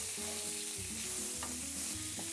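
Spices with black pepper and cardamom sizzling quietly in a pan while being stirred, a soft steady fry with faint scraping of the spoon, no talking.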